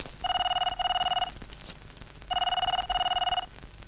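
A telephone rings during a Kannada film scene, giving two loud, close bursts of fast electronic trilling with a short pause between them and no talk.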